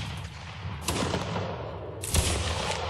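Muskets fire in Mount and Blade Warband battle, with two loud, sharp shots about a second apart, each cracking out of a low background rumble and dying off quickly.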